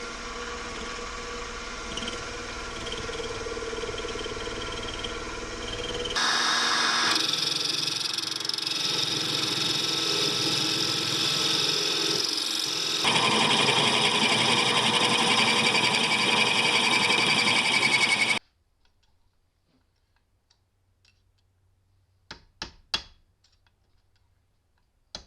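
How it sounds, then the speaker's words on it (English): A small milling machine takes light cuts while machining a tool for removing an Arctic Cat differential nut, giving a steady, loud motor whine and cutting noise that runs continuously and then stops, followed by a few faint clicks. "This little small mill can only take small cuts at a time,"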